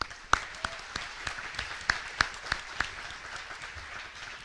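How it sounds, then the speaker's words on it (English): A crowd applauds parents at a high school athletic awards ceremony, with scattered sharp individual claps standing out over a softer, fairly faint spread of clapping in a large room. "So I want to give our parents in the building a round of applause."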